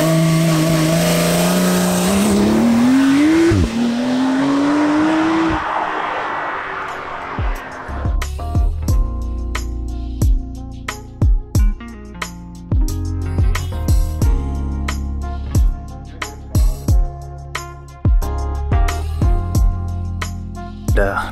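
A Porsche 911 Carrera S Cabriolet (992, 450 PS) drives past, its engine rising in pitch as it accelerates and then fading away. Rhythmic music with sharp beats follows.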